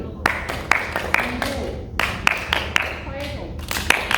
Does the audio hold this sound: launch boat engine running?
no